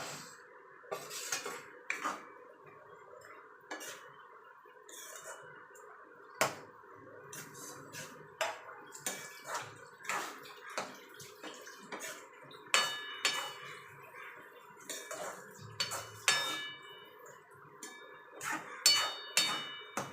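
Metal utensils clink and scrape against a pan as fried boondi is added to thickened sugar syrup, with repeated sharp taps and clatters spread irregularly throughout, close by and without speech.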